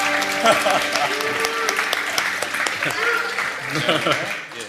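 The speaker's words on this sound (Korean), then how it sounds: "용감한 박수로 한번 맞이해 주실까요?" Applause from a church audience welcomes a volunteer to the stage, a moderate, steady patter of clapping that runs beneath a speaking voice throughout.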